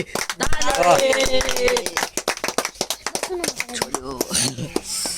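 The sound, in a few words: people clapping at a birthday celebration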